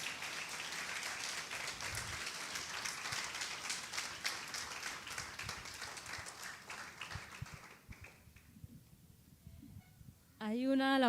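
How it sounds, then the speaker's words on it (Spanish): A church congregation breaks into strong applause for several seconds, a dense wash of clapping that thins out and fades, followed briefly by a voice at the end. "Dale un fuerte aplauso al Señor."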